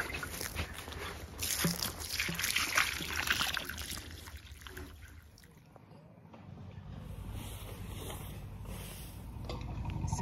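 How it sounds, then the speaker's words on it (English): Water pours and trickles onto the soil around a newly planted tree in a garden, a soft continuous splashing that eases midway and then picks up again, with faint outdoor background. "all that remains is for me to just give it some water"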